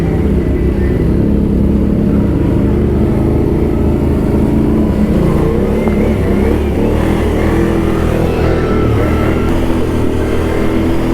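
Can-Am 1000 and 800 ATVs with a CF Moto 1000 ATV, engines running and revving together outdoors, a steady loud low rumble that stays up for the whole stretch with no talking.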